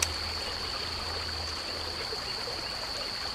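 A stream runs over rocks at a fishing spot, giving a steady, close rush and trickle of flowing water that holds an even level throughout, with no voices.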